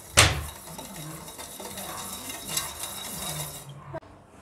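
Milk for hot chocolate is stirred in a pot, with a sharp metallic clink at the start followed by soft scraping and swirling, fairly quiet and close.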